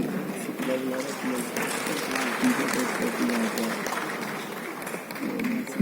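Applause from an audience at a CPWD foundation day award ceremony, continuous clapping from a crowd that holds steady for several seconds, with a voice speaking faintly through it.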